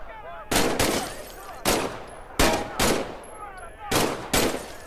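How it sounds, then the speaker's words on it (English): Pistol shots in the VR shooter Medal of Honor: Above and Beyond, six loud, close single cracks spaced irregularly about half a second to a second apart, each with a short echoing tail. "Grab the pistol from its holster on your hip. Squeeze the trigger to fire."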